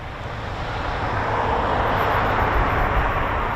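C-5 military transport aircraft at RAF Mildenhall, a loud, steady, broad jet roar that swells slightly as it passes, with a faint high whine on top, no talk.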